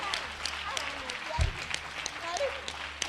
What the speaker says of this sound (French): Acclame, acclame.